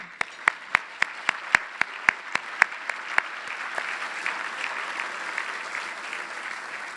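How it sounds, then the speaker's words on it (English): Applause for sponsors at a charity breakfast opens with one person's loud, regular nearby claps, then a broader crowd of clapping swells in behind and carries on as the close claps fade. "And they deserve a round of applause."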